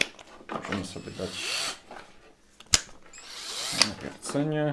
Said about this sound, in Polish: I teraz lecimy małym wiertłem.